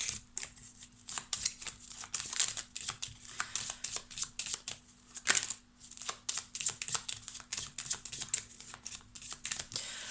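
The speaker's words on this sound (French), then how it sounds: "si je commence à brasser un peu trop longtemps, je me stoppe et je prends la première carte du dessus" Tarot cards are shuffled repeatedly at close range, a rapid run of papery riffles and soft slaps with short pauses between bursts, no voices present.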